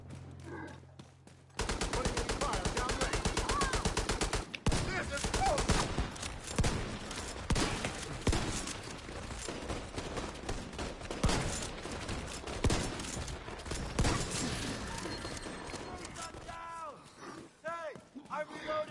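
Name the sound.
gunfire from a turret in a video game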